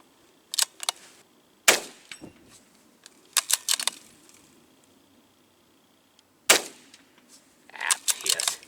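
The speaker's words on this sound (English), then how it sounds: "let's keep shooting. We'll just shoot a couple more and then we'll probably call it." Target shooting gunshots ring out in sharp, separate cracks, several spaced across the stretch with quiet gaps between, outdoors at moderate distance.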